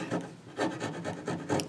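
A hand rasp is worked along a wooden guitar neck to smooth it, giving four or five rough, scraping strokes in a steady back-and-forth rhythm, close and moderately loud.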